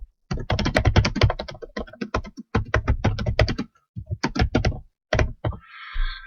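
Fingers type feedback on a computer keyboard in fast bursts of crisp, close key clicks separated by short pauses, ending in a brief higher-pitched sound, with no talking.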